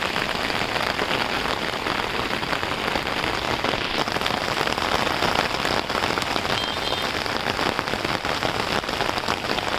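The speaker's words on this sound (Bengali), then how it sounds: "প্রচুর বৃষ্টি হচ্ছে মুসলধারায়" Heavy rain pours down steadily at dusk during a power cut, a dense, loud hiss of drops drumming on surfaces without pause, no voices present.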